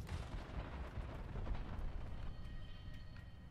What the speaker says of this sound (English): I'm gonna throw some firecrackers there.